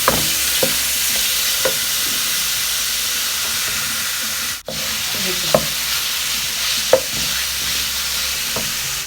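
Chicken vegetable soup seasoned with black and white pepper powder is stirred in a pot over a steady loud hiss of heat, with a few soft spoon scrapes and knocks scattered throughout.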